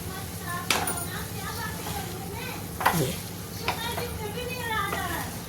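Chopped red chillies go into a pan of sweet-and-sour tamarind bitter gourd, setting off a steady frying sizzle with a few sharp clatters and stirring scrapes, while a voice and background chatter come and go.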